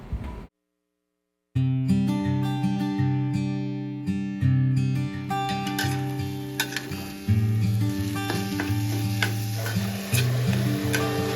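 Spicy egg poriyal fries in a very hot pan while being stirred, producing a loud, steady sizzle with repeated scraping strokes and a musical background, after a short silent gap at the start.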